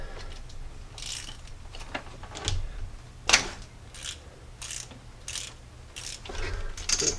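An 11/16 wrench working the ground strap nut on a Jeep Cherokee XJ 4.0L engine, giving a run of quiet, close ratcheting clicks and metallic ticks with small pauses between bursts.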